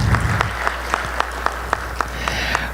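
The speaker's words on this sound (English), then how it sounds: "Please give all of these folks a round of applause" Audience applause for event sponsors at a lecture gathering, a sparse, fairly faint patter of claps with a few louder single claps standing out at a steady spacing, quiet room hum underneath.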